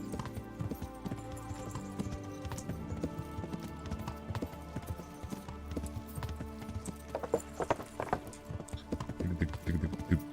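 A horse's hooves clip-clop in Kingdom Come: Deliverance, a steady rhythmic trot running through the whole stretch over a dense bed of game ambience, with no talking.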